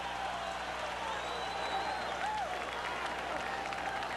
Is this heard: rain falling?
no